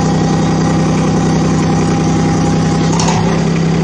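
A brand-new machine's engine runs loud and close as it is driven, a steady deep rumbling drone with constant vibration throughout.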